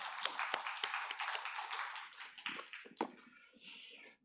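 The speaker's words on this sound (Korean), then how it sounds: "하나님께 영광의 박수 드리겠습니다." A church congregation in Korea applauds during a Sunday worship service, a short burst of scattered hand claps that thins out and fades within a few seconds.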